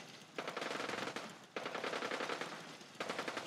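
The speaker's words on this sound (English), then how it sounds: "With the sounds of massive amounts of gunfire happening in the other direction." Rapid automatic turret gunfire in the video game Fallout 4 rattles in three long bursts, fairly faint and distant-sounding, with no talking.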